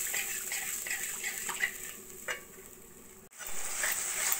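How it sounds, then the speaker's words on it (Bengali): Spice paste for doi begun, a yogurt and eggplant dish, fries on a low flame and is stirred, making a steady soft sizzle with occasional scraping strokes of the spoon, close by and without talk. "এবার লো ফ্লেমে ভালো করে একটু মশলাটাকে কষিয়ে নেব।"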